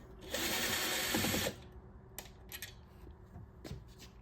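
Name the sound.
power drill removing screws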